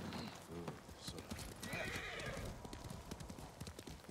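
Horse hooves clip-clopping with a whinny in a samurai video game, steady hoof beats under game ambience and faint talk.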